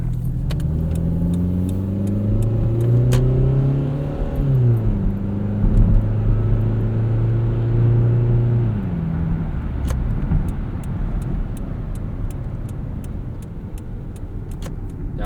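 A 2001 Toyota Camry LE is driven from inside the cabin, its engine and exhaust droning loudly as the revs climb and drop through several gear changes, then settling into a steady rumble with road noise.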